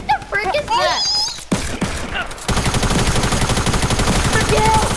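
Rapid bursts of gunfire from the Fortnite video game, loud and dense through most of the stretch, with a voice heard briefly over the shooting near the start.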